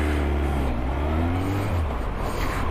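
A motorcycle on a training course for the riding test accelerates up through the gears with a loud, close engine note, its pitch rising and shifting steadily throughout without talk.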